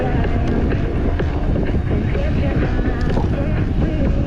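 Headwind buffeting the microphone on a road ride in Crimea, a dense continuous low roar that stays loud and steady throughout, with no clear voice over it.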